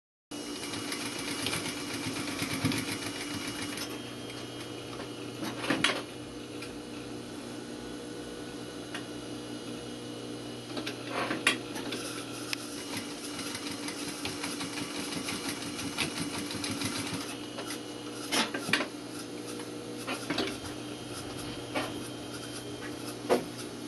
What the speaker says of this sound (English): I'm just going to put a little back stitch in here.